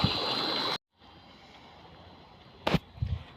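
Irrigation water gushes from a solar pump pipe into a wheat field. A loud rush is cut off abruptly after under a second, then a softer flow returns with a few splashy knocks near the end.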